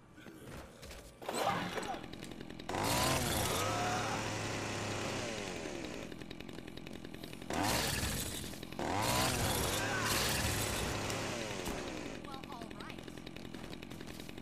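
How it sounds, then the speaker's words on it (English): Chainsaw revving in the video game Dead Rising 2, buzzing in several bursts of a few seconds each with short pauses between, loud and close over a constant game background. "Chainsaw. Whoa, let's take a chainsaw."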